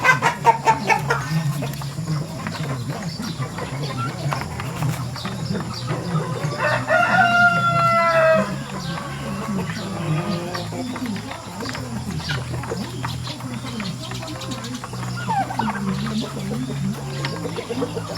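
Hybrid turkeys call and gobble close by at feeding time in a noisy farmyard, with bursts of loud calls against a steady low background hum.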